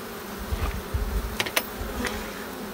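Honeybees buzzing around hive frames at a beekeeping apiary, a steady close drone with a few sharper clicks and knocks of frames being handled, no talking.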